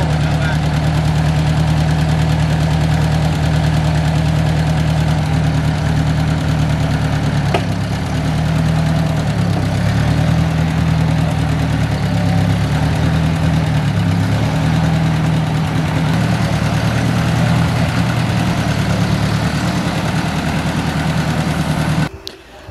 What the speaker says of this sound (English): That is the first time I have ever backed that into the barn.